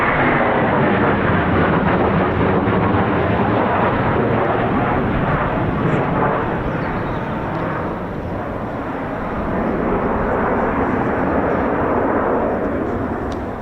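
A Eurofighter Typhoon FGR4 jet roars past RAF Coningsby as a loud, broad, continuous rumble that holds steady throughout. A faint voice can be heard under the engine noise.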